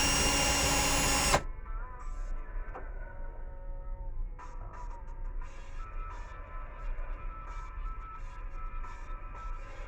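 An electric drill spins steadily to twist coil wire for fused clapton vape coils, opening with a brief loud burst, then settling into a quieter continuous whir with faint intermittent clicks and rattles.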